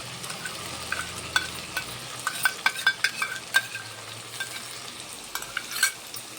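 Tomato paste frying and being stirred in a pan for a fish curry, a soft steady sizzle with repeated sharp clicks and scrapes of the spoon against the pan.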